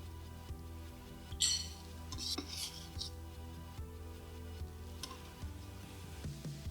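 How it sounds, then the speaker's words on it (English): Quiet clinking and scraping of utensils in a bowl as a corn salsa salad is tossed and mixed with dressing, with a soft low hum underneath. "So mix all that together with that dressing."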